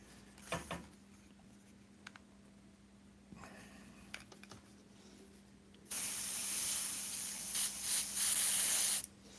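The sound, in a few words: airbrush spraying Createx paint onto synthetic paper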